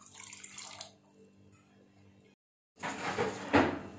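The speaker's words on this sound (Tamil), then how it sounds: "இது கூட நம்ம அளந்து வச்சிருக்க தண்ணி சேர்த்துக்கலாம்" Measured water splashes and pours into a pressure cooker of mutton biryani for about a second after a short silence, close and fairly loud, with faint clatter earlier.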